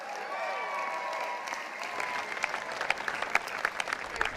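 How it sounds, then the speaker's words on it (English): Graduates applaud themselves at the 2016 University of New Hampshire commencement, a large outdoor crowd whose clapping swells into a dense, steady roar, with a lingering tone at first and sharper individual claps emerging toward the end. "Come on, give yourself a round of applause."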